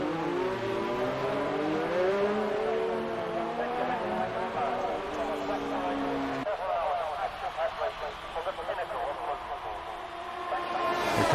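A race car engine in a racing video game at Abu Dhabi, revving and shifting through gears as it rounds a hairpin, steady and prominent under continuous commentary from a man.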